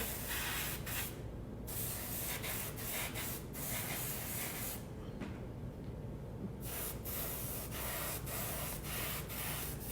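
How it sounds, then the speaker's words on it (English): Steady hiss of spray paint being applied to the webbing of a taxidermy bird's feet, loud and close, broken by short gaps between bursts, with no talking. "I'll even spray the webbing just because it's kind of a darker there"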